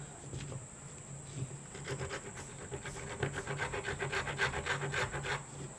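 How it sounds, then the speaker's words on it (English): A wood rasp filing and shaping a carved wooden piece, close rhythmic scraping strokes that grow steadier and louder as the work goes on, with no voice. "I use the rasp and refine that shape a bit more."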